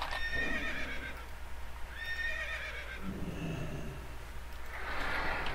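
A zebra mount in the video game World of Warcraft neighs, two loud whinnies in a row, then hoof clip-clops and a further breathy snort, with no talk.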